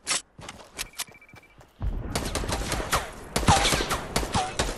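Video game gunfire in a Fortnite squad match: a few isolated sharp shots, then a dense, sustained volley of rapid shots with heavy impacts, loud and close.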